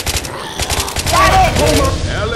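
Rapid bursts of gunfire from Left 4 Dead 2 in expert co-op play, loud and close, with repeated sharp shots crackling through mixed game effects and voices.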